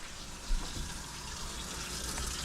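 Pike fillets being put into water in a container: a continuous watery rush with a brief splash near the start, fairly close and without speech.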